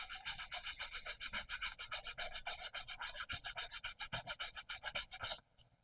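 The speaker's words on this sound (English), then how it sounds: "I'm gonna do a little sanding on it." Sandpaper rubbing back and forth along the edges of a DIY starburst mirror made with seed pods, a steady run of rapid rasping strokes close by, stopping abruptly near the end.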